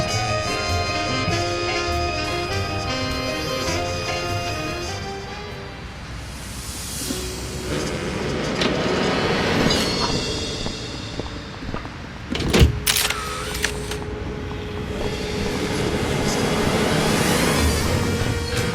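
A car driving in the Sam & Max Save the World video game, a steady engine drone with a door-like thud and clatter midway before the motor hum resumes, alone and moderately loud.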